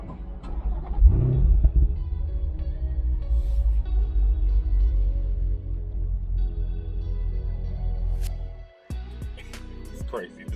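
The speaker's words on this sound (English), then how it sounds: "All right, so let me start her up." A Chevrolet Corvette C7 engine cranks and fires up with a sharp roar, then settles into a loud, deep, rumbling idle that continues for several seconds before a brief dip and further revving, with a voice heard faintly.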